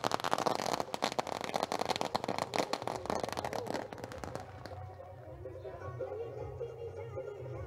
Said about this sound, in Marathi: आज मात्र खऱ्या अर्थानं त्यांचं आगमन या ठिकाणी फटाक्यांच्या आतषबाजी मात्र होत आहे